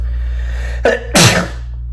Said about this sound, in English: You get to see me sneeze.